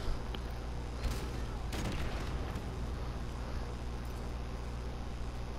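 Booming explosions and rattling gunfire from an online match of Call of Duty Modern Warfare Remastered, with an airstrike and a grenade going off, dense and continuous with a couple of sharper blasts early on.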